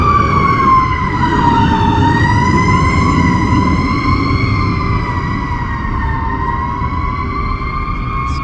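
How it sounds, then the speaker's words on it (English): A fire truck siren wails loudly and continuously nearby, its tone rising and falling slowly over a low engine rumble, with no talking over it. "Sorry for the fire truck noise"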